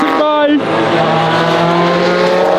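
A Sauber Group C race car passes at the Espiritu de Montjuic event: a loud, high engine whine drops sharply in pitch as it goes by, then a strong, sustained engine note trails away.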